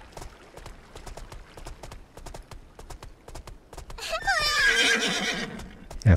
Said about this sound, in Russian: Конь отказывается идти дальше.